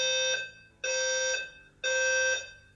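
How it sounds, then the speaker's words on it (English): Fire alarm in the video game Satisfactory: three identical loud electronic beeping bursts, each about half a second long with short gaps between, sounding alone without speech. "Well, that's the fire alarm."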